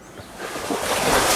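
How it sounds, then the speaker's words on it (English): Water trickling and rushing over a small stream crossing on a flood-prone hillside, a steady broadband wash that swells slightly louder toward the end, with some wind noise and no talking. "So the water is moving a little bit. So this is a little stream crossing."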